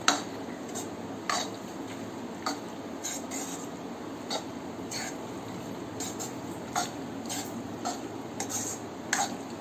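A spoon clinks and scrapes in a pan while white sauce pasta is stirred together, the light metallic taps coming irregularly over a soft, steady background hiss.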